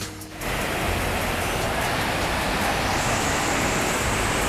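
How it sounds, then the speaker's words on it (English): A river feeding into the Kennebec along the Appalachian Trail in the Bigelow Range rushes in a steady, loud, broadband roar that runs without a break and fills the whole scene, with no voices. "Just a river that flows into the Kennebec."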